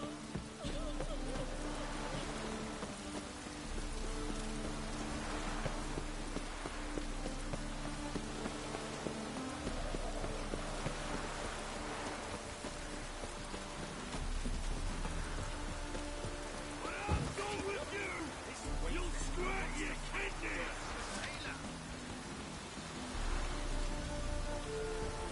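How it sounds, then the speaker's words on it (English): Steady rain falls in The Witcher 3 video game, a continuous soft hiss running throughout amid game music and ambience, with occasional voices speaking over it. "Looks like rain."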